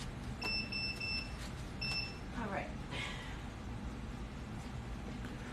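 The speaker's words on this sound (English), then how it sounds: "that beeping y'all heard was we just changed the" A heat press gives a few short electronic beeps after its settings are changed, faint bursts in a quiet print shop with a low background hum and some indistinct movement.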